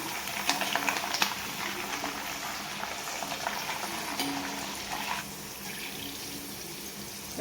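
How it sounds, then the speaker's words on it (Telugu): Garlic cloves and curry leaves sizzle in a hot tempering for tomato chutney, a steady bright frying hiss with occasional stirring scrapes. The hiss drops slightly partway through. "వెల్లుల్లి రెబ్బలు కూడా వేసుకోవాలి కరివేపాకు కూడా వేసుకోవాలి వేసిన తర్వాత ఒకసారి ఇలా కలుపుకోవాలి"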